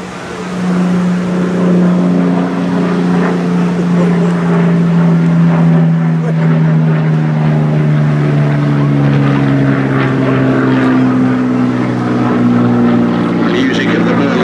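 A 27.5-litre Rolls-Royce Merlin V12 aero engine drones loudly on a vintage aircraft at an airshow, a steady deep roar whose pitch slowly shifts as the plane passes, with crowd noise underneath.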